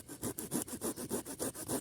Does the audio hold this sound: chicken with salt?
no